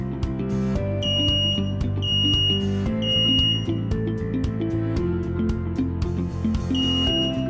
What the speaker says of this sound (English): the Xsense XS03-WX smoke alarm, which is small but powerful,